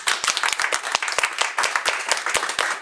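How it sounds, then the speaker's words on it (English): A small group at a foster care training claps for two presenters, sparse individual claps in an uneven, close patter rather than a dense roar. "everybody should give them a round of applause"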